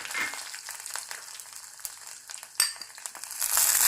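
Garlic frying in a hot pan for fish curry, close crackling sizzle with scattered pops and a few clinks of utensils, swelling louder at the end, no voices.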